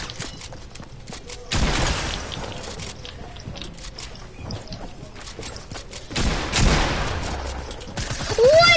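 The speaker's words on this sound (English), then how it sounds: "I'm literally shooting Kenny" Gunfire from a shooting video game, with two loud bursts of rapid shots separated by quieter stretches of faint game noise and clicks.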